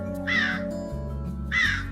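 A crow gives two loud, harsh caws about a second apart, standing out clearly above a steady musical background.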